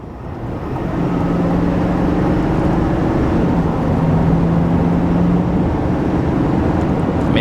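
A 2024 Chevy Silverado 3500 High Country with the L5P Duramax diesel accelerates on a highway, producing a steady, loud engine drone that builds slightly and holds throughout with no talking.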